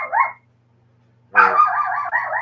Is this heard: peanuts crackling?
no